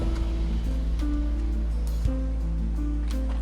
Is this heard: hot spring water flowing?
yes